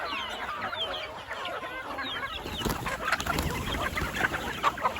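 Chickens cluck continuously on a farm raising Kadaknath, Rhode Island Red and local breeds, with layered overlapping calls from many birds, close and steady, and a busier burst of clucking in the second half.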